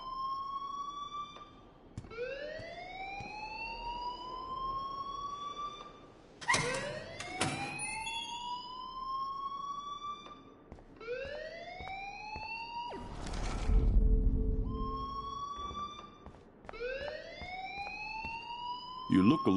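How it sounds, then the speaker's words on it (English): An alarm blares in the Life is Strange video game, a repeating rising siren-like wail in regular cycles that keeps sounding for the whole stretch, with brief bursts of noise between. "please turn off that alarm since that's your job"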